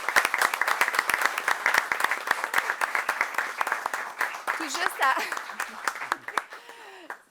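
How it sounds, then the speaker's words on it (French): Applause fills a city council meeting in Beloeil: a dense, steady patter of many hands clapping that fades out near the end as a voice begins speaking. "Une belle main d'applaudissements."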